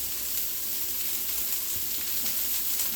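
Chicken broth, wine and lemon juice simmer in a pan for chicken Francese, giving a steady, even sizzle close by with no talk over it.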